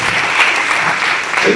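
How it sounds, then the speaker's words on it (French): A seated audience at a round-table discussion on permanent museum collections in Rouen gives a short burst of applause, dense and even throughout. "Je vous propose quand même d'applaudir Christian"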